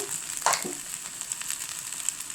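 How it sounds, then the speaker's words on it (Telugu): Bheja, goat brain, sizzles in a pan, a steady close hiss of frying broken by a few soft stirring scrapes. "రెండు నిమిషాలు ఫ్రై చేసుకోవాలి మంచిగా"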